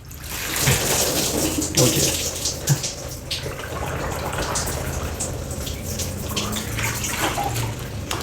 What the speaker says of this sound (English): just one quick rinse for the jacket